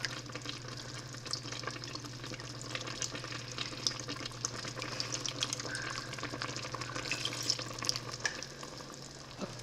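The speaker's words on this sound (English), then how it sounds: "I'm gonna add a 1/4 cup of soy sauce." Soy sauce poured into a hot pan of beef tips for gravy, with a steady close sizzle and faint liquid splashing that continue evenly throughout.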